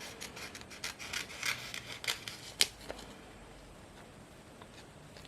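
Scissors snip around a sticker, several quick close crisp cuts in a loose rhythm followed by a quieter stretch, with no talking.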